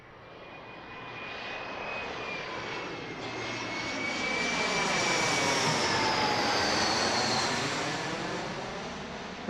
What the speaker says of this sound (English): Republic Airways, Delta connection, E175 from JFK in New York City.